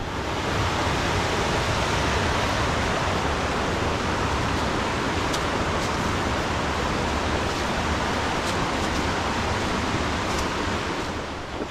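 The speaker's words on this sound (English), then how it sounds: "Sound of a waterfall." Steady broadband roar of a waterfall on Otter Creek in a West Virginia forest wilderness, continuous and fairly loud with no voices over it.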